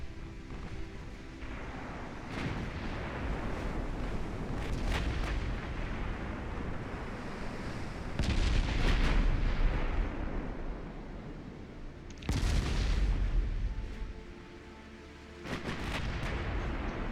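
Warship guns boom repeatedly in the naval battle game Ultimate Admiral: Dreadnoughts, with heavy broadband blasts and rumbling echoes, louder salvos landing around the middle and near the end over a constant low battle roar.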